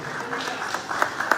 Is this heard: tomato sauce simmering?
no